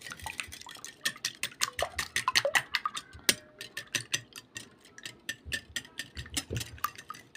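A hand whisk beats eggs in a bowl, producing fast, steady metallic clicks and taps of the wires against the sides in a lively, even rhythm, close and clear with no talking.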